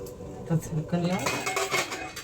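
A metal lid clanks onto a pressure cooker holding chicken biryani in a home kitchen, a few sharp, ringing metallic knocks up close, with a voice briefly heard.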